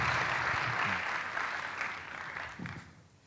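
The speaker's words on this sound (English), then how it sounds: "You guys can clap too." University audience at a Purdue talk clapping to welcome a guest on stage, a soft continuous patter of many hands that gradually fades, with a brief voice near the end.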